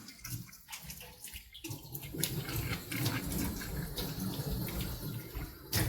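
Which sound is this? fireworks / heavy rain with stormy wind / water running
water running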